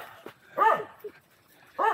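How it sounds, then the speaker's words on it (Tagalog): A dog barks and yips close by on a rocky mountain road near Bunga Falls in Nagcarlan, Laguna, with three short barks spaced irregularly over a quiet background. "inaaway kami ng aso dito"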